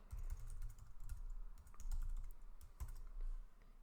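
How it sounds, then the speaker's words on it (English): Keys clatter on a computer keyboard during a WebdriverIO testing session, a steady run of close, crisp clicks in uneven bursts for several seconds with no one talking. "and let's type, for example, Mike again"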